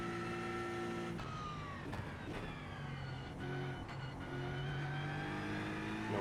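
A GT3 race car engine in the iRacing simulator whines and revs as the throttle is poked through a corner, the pitch rising and dipping in short surges with brief gear-shift breaks, steady and fairly loud, with no talking.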